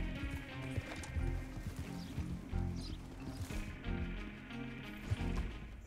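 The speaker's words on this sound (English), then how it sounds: "This horse is slightly pissing me off." Horse hooves clip-clopping in Red Dead Redemption 2, with a brief whinny among busy game sounds, steady and moderately loud throughout.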